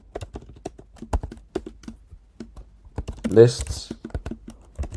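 Quick, crisp keystrokes tap on a computer keyboard while Markdown text goes into an editor, arriving in uneven bursts with brief pauses and a short spoken word partway through.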